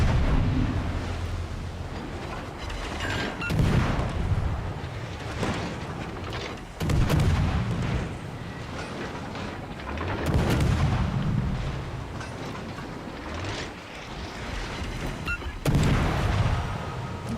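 Naval gun salvos from World of Warships: Legends fire as heavy booming blasts at irregular intervals, about five loud shots with rumbling tails over a steady low background.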